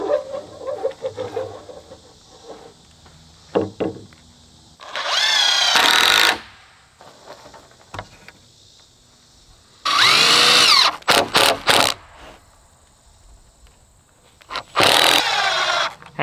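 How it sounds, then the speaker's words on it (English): A power drill drives screws into a tin roof on a rain collection shed build, several loud whirring bursts of a few seconds each separated by quieter pauses. "I'm gonna drill the tin roof on"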